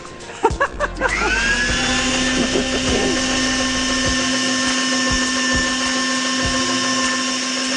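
A Mellerware Savoy electric meat mincer starts up after a few clicks and knocks, then settles into a loud, steady motor whine with a strong constant hum. Occasional faint knocks sit beneath it, and no one speaks.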